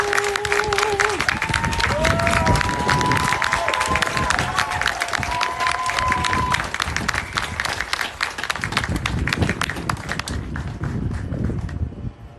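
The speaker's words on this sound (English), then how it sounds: "Please, with a huge round of applause, help me to welcome his wife, Jennifer" A large rally crowd applauds and cheers in a dense, steady roar that lasts throughout, with voices and shouts mixed in and a slight easing near the end.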